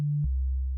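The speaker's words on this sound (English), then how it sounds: "So just a pure sine wave here" A pure sine wave from the sub oscillator of Ableton Live 12's Roar and Meld synths plays as a smooth, steady low hum, stepping down once to a deeper pitch, alone and fairly loud.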